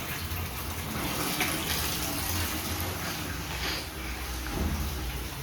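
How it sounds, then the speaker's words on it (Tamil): Steady rush of hot tap water pouring continuously, close and fairly loud, with no talking. "இப்படி தள்ளினா சுட தண்ணி வருது"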